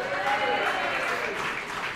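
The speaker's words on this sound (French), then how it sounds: "je vous demande de les applaudir" Audience at a Chupa Chups relaunch event applauding the brand team, a full, continuous roll of clapping that stays loud and even from start to finish, with faint voices underneath.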